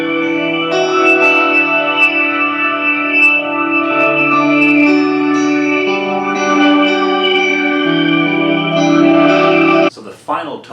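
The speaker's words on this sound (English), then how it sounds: "the final tone print is church reverb and shimmer and chorus" Sustained electric guitar chords through a TC Electronic Hall Of Fame 2 pedal wash out in a huge, shimmering church reverb with chorus-like wavering, ringing for several seconds before a sudden cut and a brief rustle.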